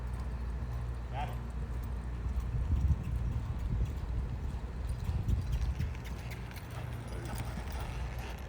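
A ridden horse's hooves beat a steady, rhythmic clip-clop on the ground, moderately close and even in pace, with a low background rumble throughout.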